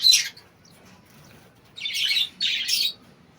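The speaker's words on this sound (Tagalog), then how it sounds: "Ito na guys yung mga natira kong ibon." Small yellow parakeets give a quick burst of high chirps, then two livelier clusters of tweeting a moment later, close by against a quiet background.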